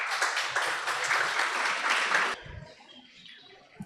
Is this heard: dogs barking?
no